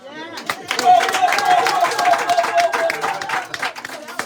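Women clap at an outdoor campaign rally, a loose burst of hand claps rising and holding steady for a few seconds amid crowd noise and voices.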